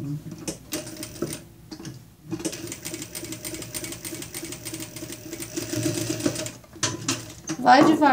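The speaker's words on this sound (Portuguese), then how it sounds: "Vai devagar, costura bem devagarzinho, que daí a máquina aceita e vai fazer." A sewing machine stitches slowly through plastic while making a vaccination card cover, giving a steady mechanical whirring hum in short runs with brief pauses, while a person talks.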